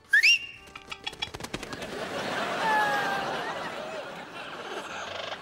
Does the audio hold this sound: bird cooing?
yes